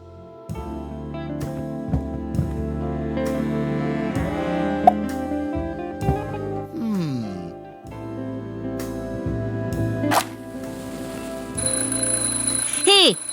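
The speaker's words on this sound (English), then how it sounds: "I'm, just testing the smoke detector." Electronic alarm beeps from a smoke detector being tested in the video game The Journey Down, mixed in with game music and sound effects, with rising tones and ringing near the end.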